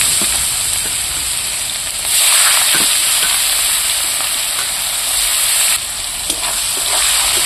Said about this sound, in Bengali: পেঁয়াজটা আমি একটু তেলের মধ্যে খুব লাল করে ভাজবো